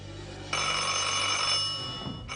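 An old telephone bell rings in a single continuous burst of about a second and a half, clear and moderately loud, then stops.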